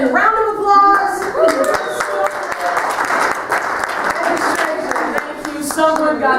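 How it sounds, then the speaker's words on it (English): A crowd at a youth and young adults church gathering breaks into a steady round of hand clapping, dense and fairly loud throughout, with some voices mixed in. "Round of applause."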